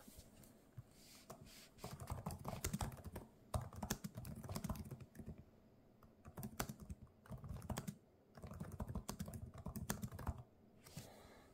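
Keys clatter on a Samsung Galaxy Book 4 Pro laptop keyboard in quick bursts of close, soft typing, broken by short pauses, with nobody speaking.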